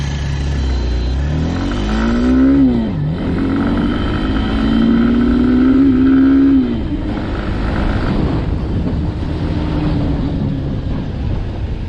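A Hero Xtreme 160R BS6 motorcycle engine revs up steadily, pitch rising as it pulls away in first gear, then drops and settles into a rougher, uneven running note.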